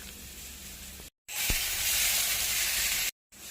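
A paste of poppy seed, amchur and chilli hits hot oil with frying aubergine and tomato, giving a loud, steady sizzle and hiss close by, briefly broken by two short pauses, with no talking.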